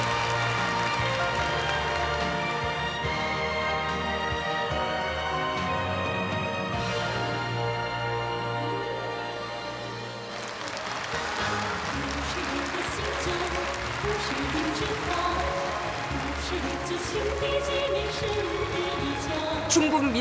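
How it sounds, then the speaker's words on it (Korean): Loud, sustained applause from a large crowd filling a stadium during a welcome ceremony for a state visit, with music and background sound layered beneath the clapping throughout. "열렬한 박수가 터져 올랐습니다"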